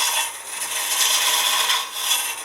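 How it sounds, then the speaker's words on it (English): A wood lathe turns end grain while a Crown Revolution Super Ring hollowing tool takes a peeling cut inside out, making a steady close hiss and rasp that swells and fades slightly. "Now I'm working inside out now on a peeling cut."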